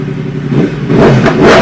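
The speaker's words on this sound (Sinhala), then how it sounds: "සුපර් බයික් එකක් වෙන Yamaha YZF R1 එකේ හඬ." A Yamaha YZF R1 superbike with a 998cc crossplane inline four-cylinder engine revs up close and loud, climbing from a low idle into a rising roar over about a second and a half.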